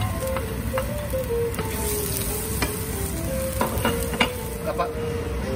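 Garlic sautés in a little oil in a pan for fish in coconut milk. Under a constant close sizzle come repeated stirring scrapes and taps, busier toward the end, with no voices.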